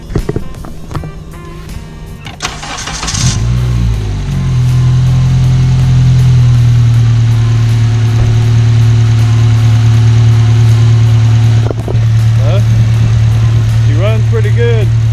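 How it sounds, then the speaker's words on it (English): A 2005 Acura RSX base model with an aftermarket Spec D exhaust cranks over briefly, catches and settles into a loud, steady idle heard from under the hood, with someone talking over it. "I'm gonna crank it up for you so you can hear what it sounds like."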